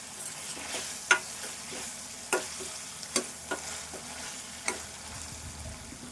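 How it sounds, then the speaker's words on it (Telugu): Curry leaves sizzle and fry in hot oil for an egg dish, a steady soft crackle broken by a few sharp pops and stirring clicks, close by with no talk. "కరివేపాకు కూడా వేసుకోవాలి, ఎందుకంటే కరివేపాకు కూడా వేగాలి."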